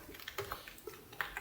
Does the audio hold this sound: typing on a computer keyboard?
yes